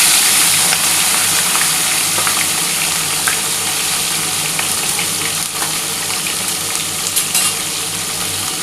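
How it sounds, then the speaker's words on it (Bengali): Pieces of small katla fish frying in hot oil for a Bengali fish curry, a steady loud sizzle and crackle with occasional spatters and stirring scrapes running throughout, no talk. "এবার আমি কিন্তু কাতলা মাছগুলো ভেজে নিচ্ছি"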